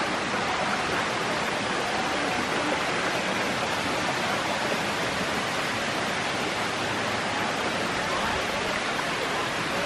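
The Thác Hiêu waterfall in the low-water season rushes steadily, a dense, even hiss of falling and flowing water close by, unbroken for the whole stretch with no voices.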